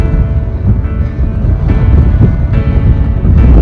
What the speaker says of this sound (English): I'm about to dive off and get out of this wind, hopefully.